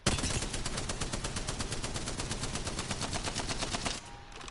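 The Bruin firing in the Apex Legends firing range with no recoil control: one long, loud, evenly paced automatic burst of rapid shots that stops abruptly near the end.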